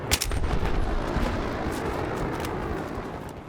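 Suppressed Scar-H rifle shots in Battlefield 3, a few sharp reports up front over dense, continuous battlefield rumble and noise.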